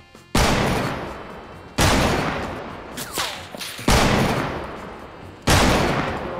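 Sniper rifle shots in a multiplayer squad video game: four loud, sharp reports spaced about one and a half seconds apart, each ringing out into a long decaying tail, with faint quicker pops and whistles between them.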